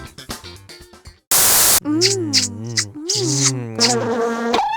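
Cartoon bees buzz in an unruly bee beard in the video game You Don't Know Jack 2011, a burst of loud static-like droning cutting in briefly between stretches of voiced dialogue and music.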